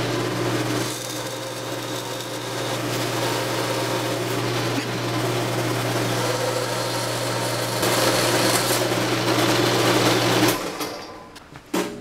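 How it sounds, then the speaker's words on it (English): A bandsaw cuts a rod for a y-axis brace on an Anet A6 or A8 3D printer, giving a steady, even motor drone for about ten seconds before it winds down and falls quiet. "I'm using my bandsaw, but you could literally do this with a hacksaw and a vise."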